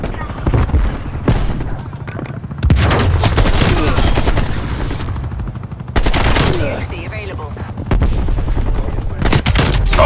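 Rapid bursts of automatic gunfire in Call of Duty Black Ops Cold War, loud and dense, with repeated volleys and booming impacts filling most of the stretch, a few brief pauses between exchanges.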